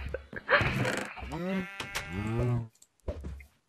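A sheep bleats in the Minecraft video game, several wavering, pitched calls in quick succession and then a short final bleat after a brief pause, close and clear with no talk over it.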